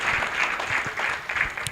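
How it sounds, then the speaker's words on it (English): Short burst of crowd applause at a meet-and-greet gathering, moderately loud and steady, with a few louder claps near the end. "just another round of applause to everyone that has made an effort to be here"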